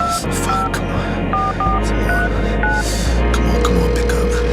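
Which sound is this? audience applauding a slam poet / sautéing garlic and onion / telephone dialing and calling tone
telephone dialing and calling tone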